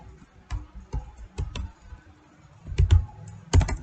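Typing on a computer keyboard: sparse, separate key clicks close to the mic, with a quicker cluster of presses toward the end, in a quiet room.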